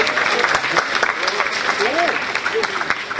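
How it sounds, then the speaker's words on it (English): An audience breaks into applause, a dense patter of clapping hands that runs steadily for a few seconds, with a voice speaking over it. "give all 4 of them a round of applause"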